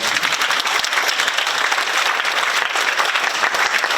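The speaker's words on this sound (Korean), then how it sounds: "박수 한번 보내주시면 많이 고맙습니다." An audience at an inauguration ceremony for a Korean community council in San Francisco claps loudly and steadily, a thick continuous patter of many hands throughout.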